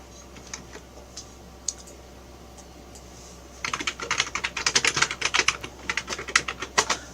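A computer keyboard being typed on while naming a project in the Tinkercad 3D design program; a quiet stretch with a few stray clicks gives way to a rapid, close run of crisp keystrokes over the last few seconds.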